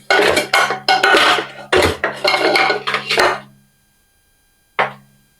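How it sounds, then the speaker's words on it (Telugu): Chocolate sponge cake batter with egg being beaten in a bowl, giving rapid clattering strokes in several sustained bursts, then a pause and one last short burst. "ఇలా లైట్ కలర్ వచ్చేంత వరకు మనం బీట్ చేసుకోవాలండి."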